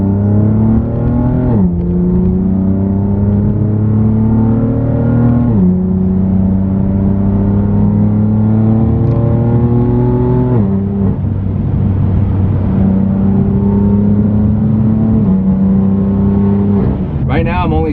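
A BMW F80 M3 with an Active Autowerke single mid pipe, catless, accelerating through gear pulls: a loud, close, smooth exhaust drone rising in pitch, dropping at each shift, then climbing again.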